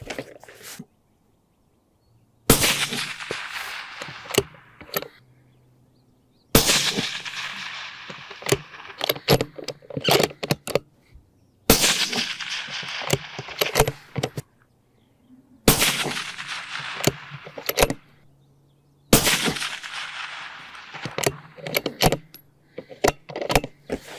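Rifle shots fired at 500-yard targets, five sharp loud cracks spaced several seconds apart, each followed by a decaying outdoor echo and faint clicks of bolt handling between shots.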